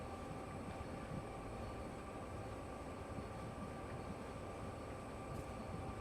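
A heavy Union Pacific heritage locomotive brakes under a heavy load on Sherman Hill in Train Sim World 3. A steady, dense rumble and rail roar with grinding hiss holds at an even level throughout, with no voices.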